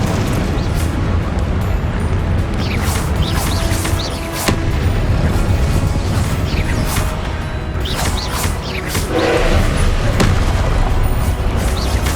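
Confringo spell blasts in the video game Hogwarts Legacy go off as repeated booming explosions, with bursts and whooshing effects layered over a dense, continuous wash of loud game sound.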